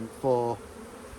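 A short, steady buzz of honey bees at an open hive during a brood inspection, rising briefly from a quiet background.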